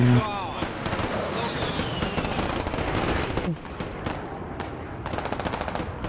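A video game artillery fire mission strike rumbles with dense, rapid machine-gun-like bursts and booming impacts that continue without a break for several seconds, loud and close, with voices mixed in underneath.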